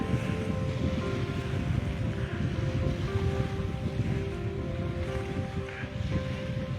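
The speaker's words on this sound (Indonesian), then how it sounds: "Tempat saya berada sekarang ini merupakan objek wisata alam Pantai Panori" Waves breaking on the shore at Pannori Beach, a natural tourist beach on Bone Bay in Temboe village, Luwu, heard as a steady, loud wash of surf with wind buffeting the microphone throughout.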